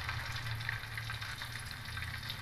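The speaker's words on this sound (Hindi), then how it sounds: "इसी तरह से अभी इसे हमें फ्राई होने देना है" Semolina and potato pieces frying in hot oil in a kadhai, a steady close sizzle and bubbling that continues evenly with no talk.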